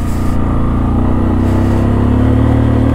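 A Bajaj Pulsar 135 motorcycle engine laboring up a steep mountain road in Spiti, a loud, steady droning growl heard close up that holds without letting off.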